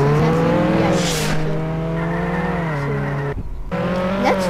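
A Lamborghini driving in the Roblox game Jailbreak, its engine humming close and steady with rising and falling pitch as it speeds, then a brief cutout before the engine note returns.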